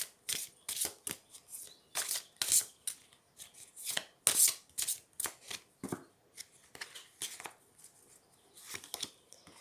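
Tarot cards are shuffled by hand in a rapid series of crisp riffling and slapping bursts, close and fairly quiet, with short pauses between handfuls and no voices.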